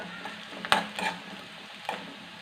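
Onions fry in a pan for a Kerala-style curry with a soft, steady sizzle and a few sharp ticks of a spoon against the pan. It is fairly faint, with no talking.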